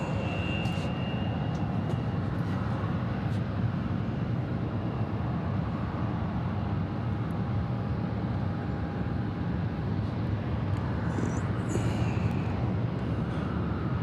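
An airliner arriving at Atlanta Hartsfield-Jackson airport, heard as a steady broadband engine roar with a faint whine, continuous and fairly distant, with no talking over it.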